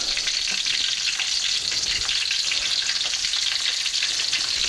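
Steady, loud hiss of chicken cordon bleu deep frying in hot oil in a wok, a continuous dense sizzle close up with no voices.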